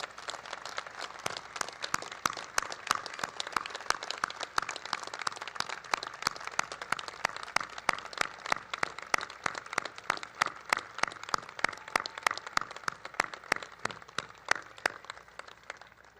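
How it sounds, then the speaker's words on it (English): Audience applause at a Coast Guard Academy commencement ceremony, steady dense clapping from a large crowd lasting the whole stretch, with sharp individual claps standing out near the microphone. "Please give them a big round of applause."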